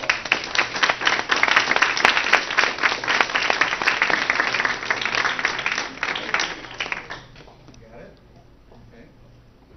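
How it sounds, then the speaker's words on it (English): An audience applauds as a speaker is introduced at a talk, warm dense clapping that holds steady for several seconds and then fades out into quiet room tone. "Let's give her a round of applause."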